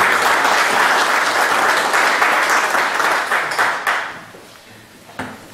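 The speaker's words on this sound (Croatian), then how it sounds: "Molim vas jedan aplauz." An audience applauding at a formal ceremonial session of a war veterans' association in Kaštela, dense steady clapping from a crowd that thins out and fades toward the end, with a few last scattered claps.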